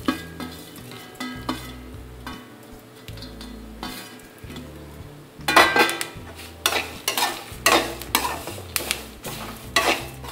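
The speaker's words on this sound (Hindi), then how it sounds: "और ये जो भुने हुए चीजें थी जो हमने पहले अलग से प्लेट में रखी थी उसको भी इसी में मिक्स कर रही हूँ।" Roasted flax seeds and spices for chutney are stirred together in a pan, with repeated scraping and clinking of a spoon against metal that grows louder and busier in the second half, with no talk.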